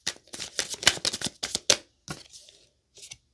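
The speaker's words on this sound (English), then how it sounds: "That's what came out while I was shuffling." Tarot cards from the Light Seers Tarot deck being shuffled close up, a quick series of crisp riffling bursts followed by a few softer, sparser card slides.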